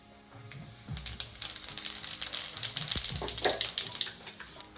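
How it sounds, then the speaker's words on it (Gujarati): Cumin seeds crackle and sizzle in hot oil, a dense, steady frying hiss with small pops, close and moderately loud throughout, for a Gujarati tuver totha tempering. "આપણું તેલ ગરમ થઈ ગયું છે, એની અંદર નાખશું જીરું"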